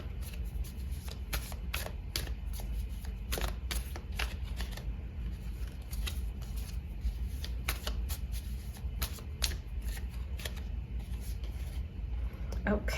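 Tarot cards shuffled by hand in repeated riffling bursts with short pauses, close and fairly steady over low background hum, with no talking during the shuffling.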